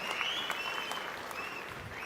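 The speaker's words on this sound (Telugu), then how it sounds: "ఓకే, గట్టిగా చప్పట్లు కొట్టి అభినందించండి." Audience applause at an official public meeting addressed by Chief Minister Chandrababu Naidu, a steady, dense wash of clapping that holds at an even, fairly loud level from start to finish with no speech over it.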